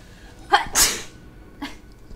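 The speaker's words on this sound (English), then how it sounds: "I'm gonna sneeze." One close, sharp human sneeze: a short intake, then an explosive burst, followed by a faint trailing breath.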